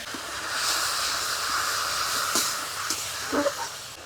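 Spices with chopped onion, tomato, cumin-ginger paste, turmeric and salt frying in a pan give off a steady, close hiss as a splash of water hits them, with a few faint clinks of utensils near the end.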